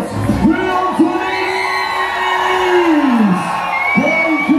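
Festival audience cheering and whooping loudly at a show, a sustained roar of voices with shouts rising and falling throughout.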